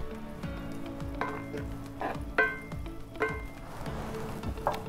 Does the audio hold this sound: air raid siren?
no